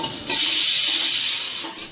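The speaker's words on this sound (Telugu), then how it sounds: "ఇప్పుడైతే తాలింపు వేసుకుంటున్నాను శనగలకి." Seasoning for chickpeas drops into hot oil, giving a loud, close, broad sizzle that swells quickly, holds for about a second and then fades.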